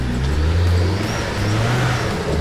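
Off-road truck on a North Wales green lane, its engine revving hard and close while the wheels spin, a steady loud drone with slight rises in pitch.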